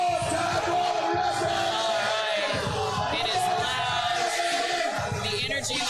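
A crowd at a powerlifting meet yells, bellows and cheers steadily throughout a women's world-record deadlift attempt, a dense loud roar of voices with shouts rising above it.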